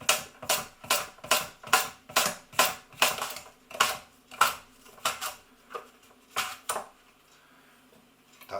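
Potatoes scraped against a grater in a home kitchen: a quick run of about a dozen rhythmic, gritty rasping strokes, close and fairly loud, that slow and thin out toward the end, with no talking.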